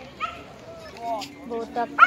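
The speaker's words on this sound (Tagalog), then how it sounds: "Ito pa yung aso." A dog yips and whimpers in short bursts at a park event, close and fairly loud, with people talking nearby.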